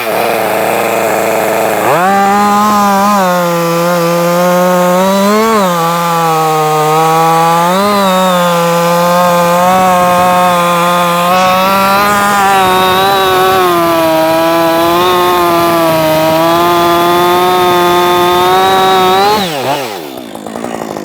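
Loud, close Husqvarna 562xp chainsaw runs at high revs for most of the time, its pitch dipping briefly a few times under load before the engine drops off near the end.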